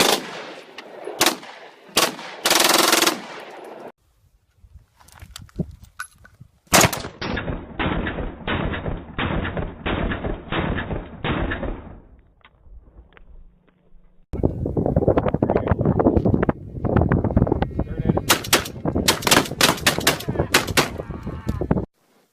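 Firearm shots fired during a gun training session, with loud, close cracks in quick repeated bursts. Short pauses separate the volleys, and a long rapid string comes later.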